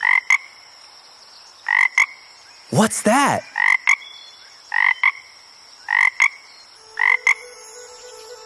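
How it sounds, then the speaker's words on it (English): A cartoon frog in a children's nursery song croaks in short, loud paired bursts repeated at a steady rhythm, with a brief spoken voice in the middle. "It's a frog!"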